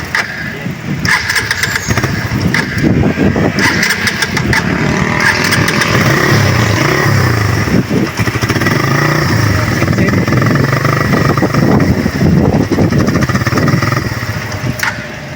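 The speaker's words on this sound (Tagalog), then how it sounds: "Bigla lang po itong namamatay at walang minor at palyado po ito" A Suzuki Raider 150 carbureted motorcycle engine sputters and runs unevenly, with no idle, revving loudly up close with irregular misfires and stumbles throughout.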